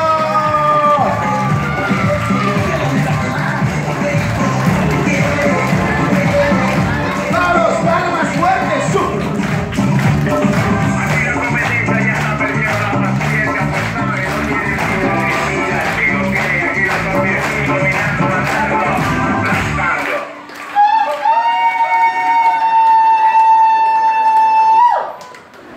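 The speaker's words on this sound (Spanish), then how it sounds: "Gracias por ese aplauso que no es para mí, es para Marijó, que está de cumpleaños" Party guests at Marijó's birthday celebration cheer and clap under loud music for about twenty seconds, then the crowd noise cuts out, leaving brief tonal music.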